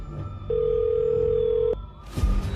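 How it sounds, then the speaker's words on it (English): A steady telephone dial tone hums for about a second before a controlled phone call, followed by a click and some line noise. "Carrie agreed to make a controlled phone call to Anthony Godinez"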